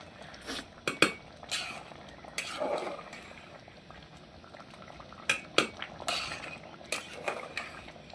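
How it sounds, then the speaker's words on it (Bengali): Khichdi with pumpkin bubbling steadily in a pot, a close, continuous simmering boil punctuated by several sharp clinks of a utensil against the pot, with no voices. "সকাল সকাল গরম গরম খিচুড়ি হচ্ছে।"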